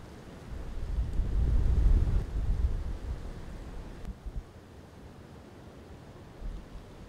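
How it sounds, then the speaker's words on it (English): Wind blowing outdoors during rifle season deer hunting, a low rumbling buffeting on the microphone that swells strongly in the first seconds, then settles into softer gusts. "Got a crappy wind at our back, which is not gonna help things at all"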